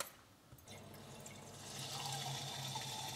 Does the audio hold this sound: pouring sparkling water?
yes